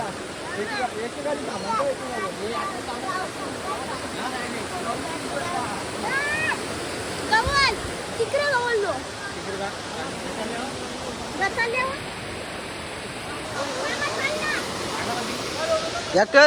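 Steady roaring rush of a rain-swollen river at Kadav runs throughout, close by, while people talk over it.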